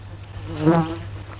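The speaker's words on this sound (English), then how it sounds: "Bee tried to get me." A bee buzzes close by in a vegetable garden, a brief droning hum that swells loudly as it passes near and then fades within a second, over quiet outdoor background.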